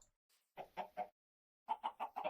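Minecraft chickens cluck in two short bursts, a group of three clipped clucks followed after a pause by four more, clear and close against silence.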